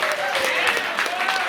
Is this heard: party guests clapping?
yes